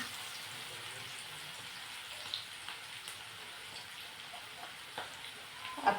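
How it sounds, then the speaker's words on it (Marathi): Chopped onions fry in a pan for pav bhaji with a steady, soft sizzle and hiss throughout, broken by a few light pops near the end. "कांदा थोडासा सोनेरी रंग येईपर्यंत परतून घ्यायचा आहे यामध्ये."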